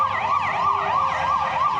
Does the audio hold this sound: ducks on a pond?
no